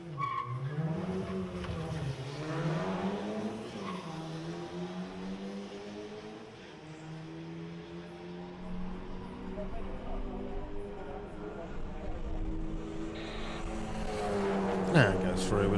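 A VW Golf Mark V GTI makes a drag run at Santa Pod Raceway, its engine note rising and falling through gear changes as it pulls away and fades, with crowd and announcer voices underneath.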